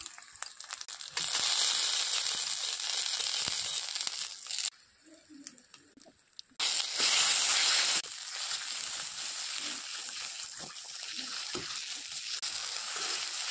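Bottle gourd peel paste frying with nigella seeds, turmeric and chili powder in a pan, loud steady sizzle that drops briefly and returns, with stirring crackles and no clear talk.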